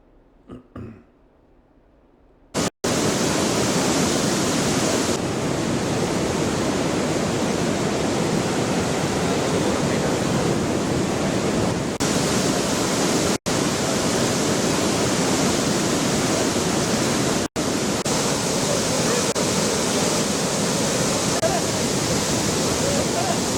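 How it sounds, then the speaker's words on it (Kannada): Powerful, continuous roar of water released from the Bhadra dam reservoir, like a torrent pouring through floodgates, loud and unbroken after a short quiet opening with brief sounds. "ಜಲಾಶಯದಿಂದ ನಾನೂರ ಮೂವತ್ತೊಂದು ಕ್ಯೂಸೆಕ್ ಹೊರಬಿಡಲಾಗ್ತಾ ಇದೆ"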